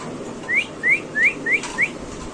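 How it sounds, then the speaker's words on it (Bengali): A Mundian pigeon calls in a series of five short, rising whistle-like chirps, evenly spaced and fairly close, against a quiet background hiss. "ইচ্ছা মতন ডাকো ফুল অ্যাক্টিভ কবুতর"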